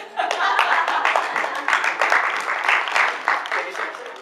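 An audience claps and applauds at an evaluation event, a steady, dense patter of many hands lasting several seconds, fairly close and alone without talk.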